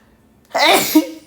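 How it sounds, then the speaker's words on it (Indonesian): A single sharp sneeze bursts out close by, a quick intake followed by an explosive, noisy release with a short voiced tail. "bersin"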